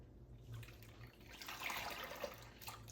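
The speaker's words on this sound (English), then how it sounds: "now I'm going to gently pull the topper out of the water" A hair topper is lifted out of a sink of soapy water, giving faint close splashing and trickling that swells briefly in the middle of the clip, with no voices.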